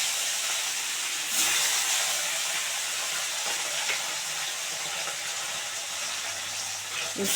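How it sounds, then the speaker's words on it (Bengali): Lata fish frying in very hot white oil in a wok, a steady, fairly faint hiss and sizzle that holds evenly throughout with a few small sputters. "এবারে মাছগুলো দিয়ে দিচ্ছি"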